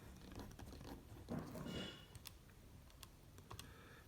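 Keys on a TI-83 calculator are pressed in a quick series of soft, close clicks, faint and irregular, with no talking.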